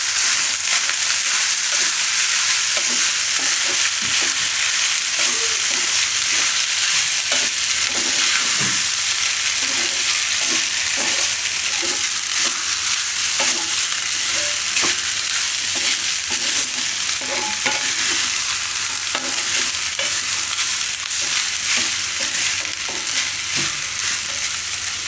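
Onions and rice fry in a pan while being stirred for a sweet mango rice dish, a steady loud sizzle with scattered scraping and stirring clicks throughout, no talking.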